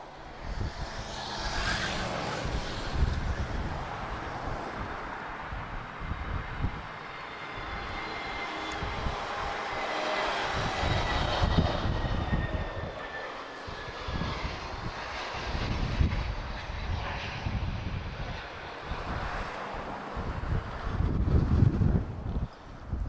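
A TAP Airbus A321neo airliner passes near Lisbon Airport with a steady, broad engine roar that swells and fades over the span, mixed with gusty wind noise against the microphone and no voices.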